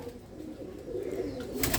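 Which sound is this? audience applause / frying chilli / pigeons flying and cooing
pigeons flying and cooing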